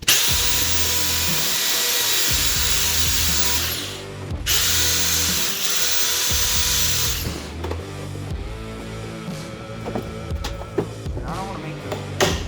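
A power drill widens a hole for a voltage meter, whining loudly and steadily at close range, briefly stopping, then restarting with rougher grinding and rattling as the bit works the material.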